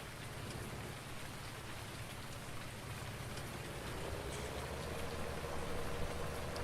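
Steady rain falls on a farm, a soft continuous patter that stays faint and even throughout with no other sounds.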